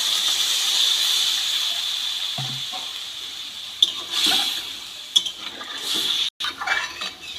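Water splashed into a hot pan of fried potatoes, tomatoes and green chillies gives a loud, steady sizzling hiss that holds for several seconds, with a few clinks of a utensil against the pan.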